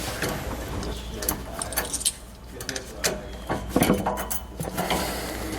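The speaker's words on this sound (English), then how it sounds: "we're going to go ahead and just remove our flange nut here, as well as our washer and then one of our rubber bushings" A flange nut, washer and rubber bushing are taken off a Roadmaster Reflex steering stabilizer, producing close metallic clinks, jangles and small clunks in irregular bursts.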